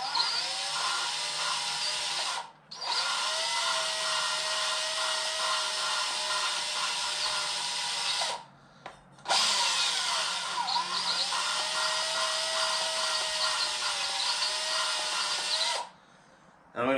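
Engine valves being lapped into a cylinder head with a powered lapping tool, a steady whirring, grinding drone close by that stops briefly several times before resuming.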